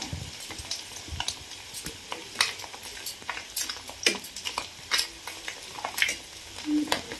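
Small river puti fish frying in oil in a pan, a steady crackling sizzle broken by bright spatter pops and scrapes as the half-fried fish are turned.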